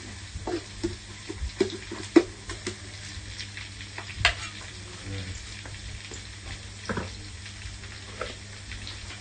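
Food sizzles steadily in a hot electric pan while a utensil scrapes and clinks as it is stir-fried, close by and fairly quiet.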